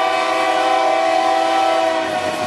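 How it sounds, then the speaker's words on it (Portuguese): A Rumo freight train in Brazil sounds its horn in a long, loud, sustained blast close by, with a faint rail rumble underneath. "É um trem da Rumo, pessoal."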